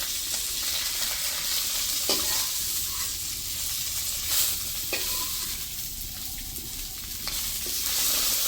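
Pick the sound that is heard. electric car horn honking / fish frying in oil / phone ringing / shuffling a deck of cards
fish frying in oil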